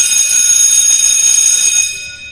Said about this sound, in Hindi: स्कूल की घंटी बजी, छुट्टी की घंटी